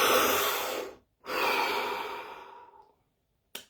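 Two long, deep breaths, each a slow airy exhale lasting about a second or more, close and alone, followed by a brief faint sniff at the end.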